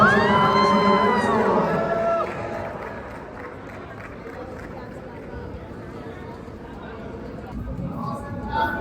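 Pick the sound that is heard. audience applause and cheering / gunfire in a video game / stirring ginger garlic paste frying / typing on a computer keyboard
audience applause and cheering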